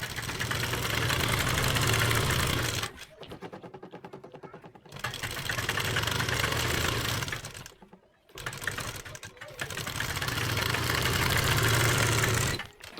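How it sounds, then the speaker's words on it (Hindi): A sewing machine running continuously while stitching a strip onto an umbrella palazzo, a loud, steady motorized whir close up, stopping briefly twice between long runs. "और यहाँ पर हम एक पैर की सिलाई लगाएंगे।"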